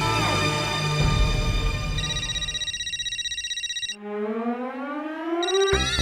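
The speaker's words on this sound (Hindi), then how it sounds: "ये माधवी फिर से क्यों फोन कर रही है" An electronic phone ringtone plays a bright, repeating melodic pattern with warbling, rising tones. It is loud and close, and no one speaks.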